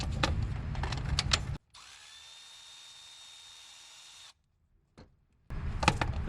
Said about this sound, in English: Next, you're gonna be able to get in there with your 10mm socket, and you're gonna take off all 3 10mm bolts.